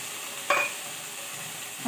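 Bean seeds added to hot oil with a spice tempering for daal, giving a brief sharp sizzle burst near the start that settles into a steady, even frying hiss, with no talking.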